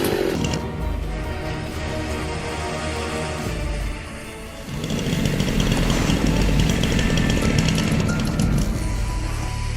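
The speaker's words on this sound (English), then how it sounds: "This is hands down the longest chainsaw chain I've ever seen." A chainsaw with a very long chain runs loudly while cutting into a tree, its high buzzing whine holding steady before deepening and growing heavier as the chain bites into the wood.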